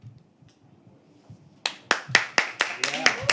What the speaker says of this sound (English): Okay, keep clapping.